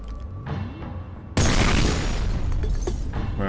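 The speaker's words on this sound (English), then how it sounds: "Have a grenade." A grenade explodes in the shooter game F.E.A.R. with a sudden loud, heavy boom and a rolling blast tail that sustains to the end, after a quieter stretch of game ambience.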